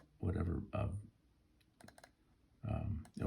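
Short bursts of typing on a computer keyboard, a handful of quick key clicks clustered between louder muffled passages, close and fairly quiet.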